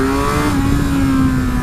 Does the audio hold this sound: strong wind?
no